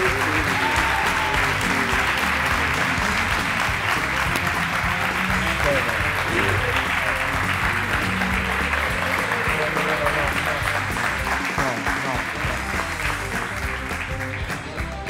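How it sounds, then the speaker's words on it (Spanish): Sustained, loud clapping from a live audience at a science comedy show, dense and continuous for the whole stretch, with a voice faintly audible underneath the applause. "Y seguimos con ese aplauso para el resto de compañeros de Big Bang"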